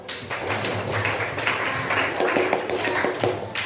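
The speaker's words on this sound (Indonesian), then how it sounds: "Tepuk tangan untuk Juwita" A classroom of students claps for a classmate, a busy continuous patter of many small hands at fairly close range, steady in loudness with a few sharper individual claps standing out.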